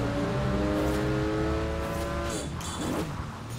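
Racing cars in Forza Horizon 4 with Audi TTs ahead, engines droning and revving steadily at close range, then a brief tire squeal and a shift in engine pitch toward the end.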